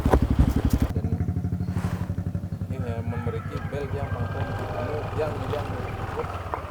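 A Honda CRF150L motorcycle engine runs close by with a steady, pulsing thump, starting loud and easing slightly to a lower idle-like throb while it continues throughout.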